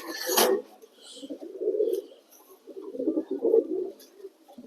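White Lakkha female pigeon cooing softly in several low bursts as it is handled and caught, with a brief rustle of feathers near the start.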